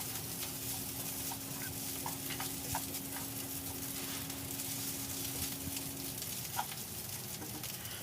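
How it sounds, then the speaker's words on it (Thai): Rice stir-fried with salted mackerel in a hot pan gives a steady, close sizzle with constant stirring and scraping and a few light clicks, with no talking. "เมื่อเราผัดจนคลุกเคล้าเข้ากันได้ที่แล้วตามด้วยปลาเค็มครับ ผัดคลุกให้หอมไปสักเล็กน้อยนะครับ"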